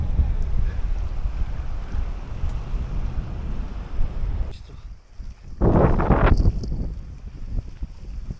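Wind blowing in the Tatra mountains, a loud rushing gust buffeting the microphone that dips briefly, then surges again before settling.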